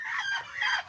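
Chickens on a Filipino farm where ducks are also kept make a short burst of clucking and crowing-like calls, fairly close and clear, with no talk over them.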